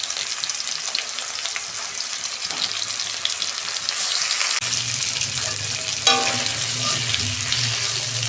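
Tomato and green chili frying in oil in a pan, a steady bright sizzle that thickens and grows louder partway through as the vegetables go in, with a brief clatter near the end.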